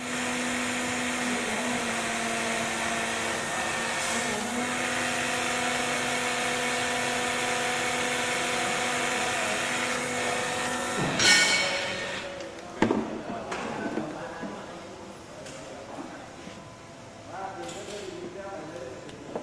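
A hydraulic torque wrench pump tightens a bolt with a steady, loud electric motor whine and hum. Around the middle it gives way to sharp clicks and clanks and a quieter, uneven mechanical hum.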